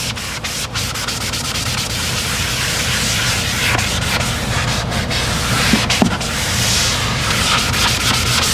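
Ceramic coating rubbed by hand into a white leather seat of a 2021 Tesla Model Y, giving a continuous, close, scratchy scrubbing with a steady rhythm and no pauses.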